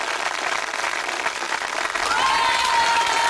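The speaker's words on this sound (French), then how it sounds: "on applaudit bien fort les volontaires, s'il vous plaît" An audience at an outdoor storytelling festival show applauds volunteers with a dense, even wash of clapping that holds steady and swells slightly near the end, along with a brief thin whistle-like tone.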